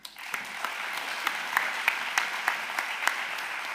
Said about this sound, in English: one round of applause for the entire session for all of the authors